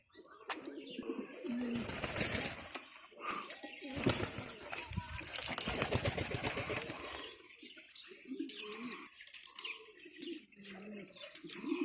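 Ornamental pigeons coo softly in an aviary, with flapping wings and scattered chirps from other birds, while people talk nearby at moderate level.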